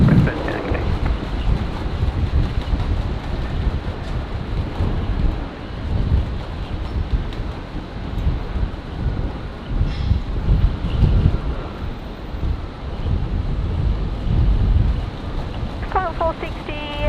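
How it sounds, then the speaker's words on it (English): Strong wind buffets the microphone at Brisbane Airport, a loud continuous roaring rumble with gusty surges, while a voice speaks briefly over it. "The wind's really picked up in the last 20 minutes or so."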